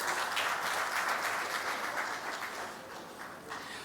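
A crowd at a stakeholder engagement forum applauds, with dense clapping from many people that is strong at first and then gradually thins and softens toward the end, with no one talking.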